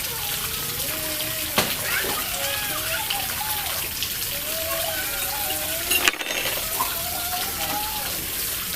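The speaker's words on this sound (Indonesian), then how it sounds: "Kita tuang kuah." Peanut broth poured over Acehnese noodles makes a continuous splashing, trickling wash that runs throughout, with a person talking over it.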